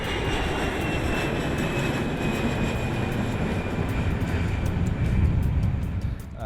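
An airplane at Santos Dumont Airport, Rio's downtown domestic airport, roars loudly and steadily, a dense broadband engine rumble that holds for several seconds and eases slightly at the end.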